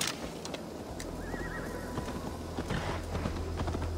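Horse hooves clip-clop steadily in Assassin's Creed Valhalla as the rider returns the mount near an alehouse, a moderate rhythmic patter over a constant low game-ambience hum.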